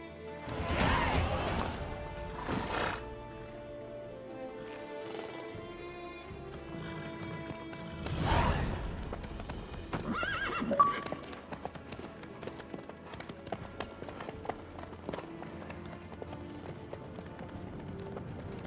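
Horse hooves clip-clop in a steady gallop in The Witcher 3: Wild Hunt, joined by crashing bursts and a faint neigh, running under game music and voices throughout.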